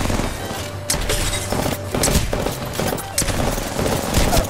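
Rapid gunfire from a first-person shooter game, dense bursts and single cracks repeating throughout at close range, with a voice faintly talking underneath.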